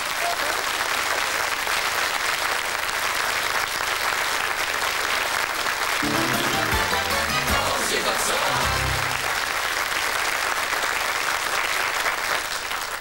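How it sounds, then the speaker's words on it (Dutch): Studio audience applause on a Dutch TV science quiz show, a steady dense wash of clapping that holds throughout, with some brief low murmur and movement partway through. "Applaus."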